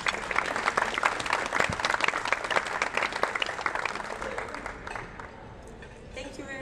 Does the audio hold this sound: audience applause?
yes